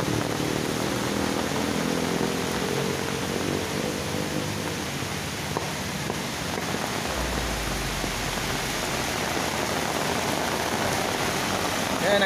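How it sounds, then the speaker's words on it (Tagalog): Heavy rain from Typhoon Dante pours down steadily, a dense unbroken hiss of rainfall on surfaces close by, with a low rumble partway through and no speech. "malakas ang ulan dito dahil sa bagyong Dante"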